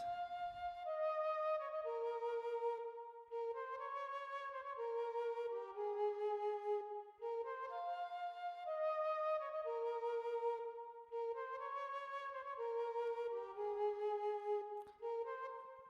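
The main melody sample plays soloed: a clean, tonal instrument repeats a descending phrase in steady cycles, alone and moderately loud.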